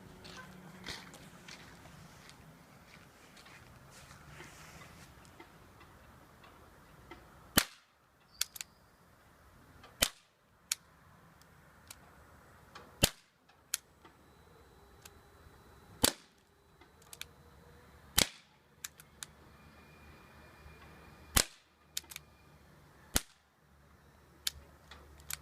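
Dan Wesson 8 and Ruger Super Hawk 8 airgun revolvers firing pellets, roughly a dozen sharp, loud cracks at irregular intervals over low room noise, with no talk.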